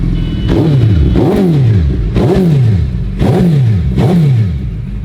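A BMW S1000 RR motorcycle revs its loud blasted exhaust in repeated deep, bass-heavy bursts, about five rising-and-falling rev sweeps close by with no talking.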